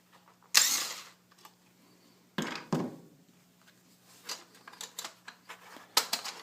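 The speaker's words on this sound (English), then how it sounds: "we're going to go ahead and pull out this screw to get that front panel off" Screw being pulled from the front panel of an Akai MPC 1000 sampler casing: a few sharp clicks and scrapes, then a burst of small, quiet ticking taps, close up with no talk.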